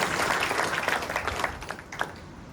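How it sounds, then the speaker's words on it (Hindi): Audience at a spiritual talk claps together in a brief burst of applause that starts full and fades over a couple of seconds. "तालियां बजाइए उनके लिए"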